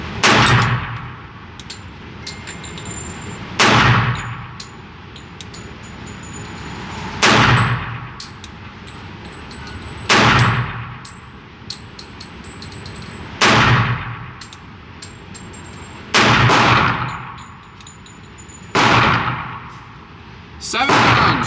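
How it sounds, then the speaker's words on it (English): Seven loud gunshots from a 1943 Remington Rand M1911A1 pistol, fired one at a time at roughly three-second intervals, each a sharp close blast with a ringing tail. "Seven rounds through the 1943 Remington Rand."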